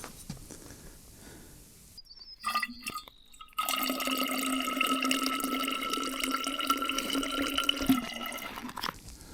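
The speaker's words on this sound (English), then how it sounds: "I want to get the bladder out of my pack and refill my water bottle" Water pouring from a backpack hydration bladder into a water bottle on an overnight trail in Alaska, a steady close trickle and gurgle after a few handling knocks, with no talking.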